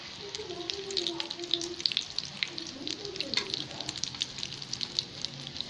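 Cutlets fry in a hot pan with a steady crackling sizzle and scattered spitting pops, a voice faintly audible now and then beneath the frying.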